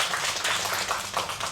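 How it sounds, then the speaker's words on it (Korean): A church congregation claps for the praise team during a Korean service, a brief dense burst of many hands clapping at once that stays loud and continuous, with no speech over it. "우리 찬양단에서 잠깐 박수 좀"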